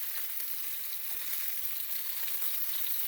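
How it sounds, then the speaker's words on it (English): Stuffed tomatoes frying in a pan over low gas heat give a soft, steady hiss and sizzle that continues throughout, quiet and close with no voices. "See, now the tomatoes have had a little fry all around"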